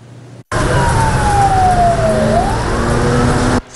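A fire engine on an urgent firefighting call sounds its siren in Taiwan, one loud, close wail sliding down in pitch then back up, heard alone and starting abruptly.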